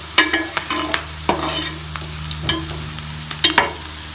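Chopped onions and green chillies frying in a pan as the base for an Andhra-style fish curry: a bright continuous sizzle with frequent spatula scrapes and taps against the pan, close up, with no voices.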